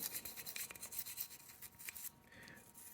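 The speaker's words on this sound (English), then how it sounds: "Scrub inside the slide like that." A brush scrubs inside the slide of a Smith and Wesson M&P pistol, producing quiet, quick, uneven bristly rubbing strokes that are close and faint, with no talking.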